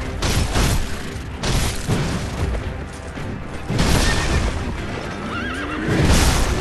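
A horse neighs and whinnies in Sekiro: Shadows Die Twice, loud and close, repeated across the stretch with clip-clop hoofbeats and heavy thuds of combat mixed in, no talk.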